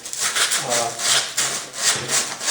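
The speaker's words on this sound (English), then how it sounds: "take a 100 grit sandpaper in your hand, you don't need anything special" Rhythmic rasping strokes of 100-grit sandpaper rubbed by hand back and forth over a wooden harp part, steady and close, about two strokes per second.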